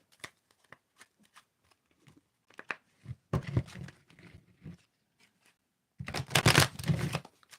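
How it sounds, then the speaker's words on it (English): Tarot cards get an overhand shuffle, with soft papery riffles and taps in uneven bursts, close by and quiet, building into two denser flurries near the middle and end, with no talk. "So I'm going to do some overhand shuffling"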